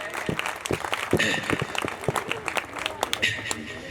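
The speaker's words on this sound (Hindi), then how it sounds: "एक बार जोरदार तालियां बजाएं" Audience applause at a Hindi comic poetry stage show: scattered, uneven claps from the crowd, moderately loud, mixed with background voices throughout.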